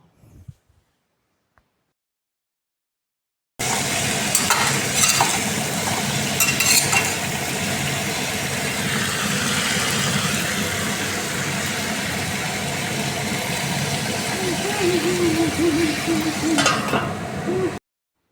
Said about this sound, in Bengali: এখন মরিচ গুঁড়া, হলুদ গুঁড়া দিয়ে আরও একটু সময় ভাজবো।